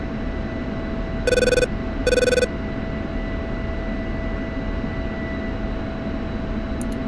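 An F-16 jet taxis to the runway in the DCS flight simulator game. A steady engine hum and whine runs throughout, broken by two short bursts of electronic beeping early on.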